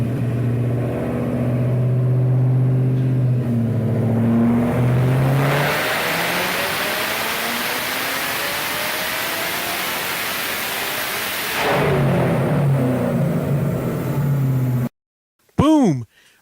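A tuned car with big compression and boost, originally a V6, revs hard on a dyno at a performance shop: a loud engine climbs and rises, holds a roaring wide-open pull for several seconds, then drops back to idle before cutting off.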